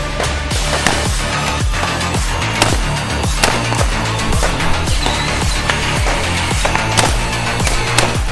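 Patrol rifles fire in a rapid steady series of sharp, loud, close cracks as two shooters engage separate targets on a police training range.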